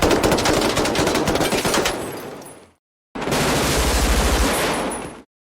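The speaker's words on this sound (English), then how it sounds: "a lone pistol shot by the van driver, has a booming report that reverberates through the urban nightscape" Loud bursts of rapid gunfire at night in a city, with a booming, reverberant tail, a brief silence, then another sustained volley that rings out and fades.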